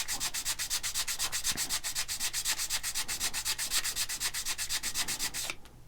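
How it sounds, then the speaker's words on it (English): Hand sanding the edge of a balsa rocket body with sandpaper, a close, rapid, even back-and-forth rasp repeating for several seconds, alone with no talk. "I'll go over a little bit of that with just the sandpaper by hand"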